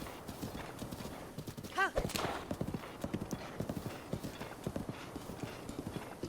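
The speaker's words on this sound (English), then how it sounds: "we can ride Epona quickly out to the Horse God Fountain" Epona, the horse in Zelda Breath of the Wild, gallops with rapid, steady clip-clopping hooves throughout and gives one sharp whinny early on, while a voice talks over the hoofbeats.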